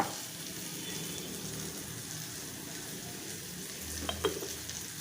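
Onion frying in a pan for a chivda made from leftover bhakri, a steady broadband sizzle throughout with a few stirring clinks near the end, no voices.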